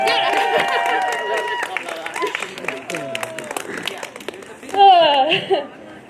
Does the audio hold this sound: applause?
yes